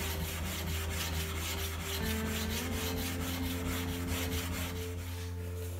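The sole of a Stanley hand plane is rubbed back and forth across a 1000 grit sharpening stone, producing a continuous gritty scraping with a fast, steady rhythm over a constant low hum.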